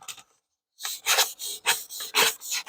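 Fine 1,500 grit sandpaper is rubbed by hand over Lear Jet aircraft metal in long straight strokes, giving a series of even rasping swishes in a steady rhythm after a brief pause, close and clear.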